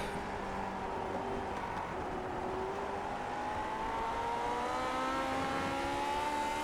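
A Lotus 49 race car engine in iRacing at Silverstone drones loudly and climbs steadily in pitch as it pulls through a gear, the whining note continuous with no voices.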